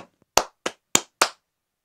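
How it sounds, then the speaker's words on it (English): Four sharp, separate hand claps in quick, slightly uneven rhythm, close and loud against silence, used to trigger the sound-reactive light mode of a Kamlar 24-inch bladeless ceiling fan with RGB light. "clap,"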